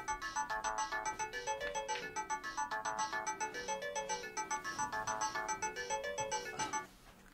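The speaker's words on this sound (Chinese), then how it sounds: "你电话，我帮你拿吧" A mobile phone rings at home with a bright, repeating melodic ringtone in even pulses for several seconds, clear and moderately close, then cuts off abruptly near the end.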